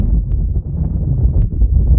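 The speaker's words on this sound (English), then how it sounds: "It's windy." Steady low wind buffeting the microphone on a hilltop in County Antrim, a continuous rumbling roar with gusty swells and no voices.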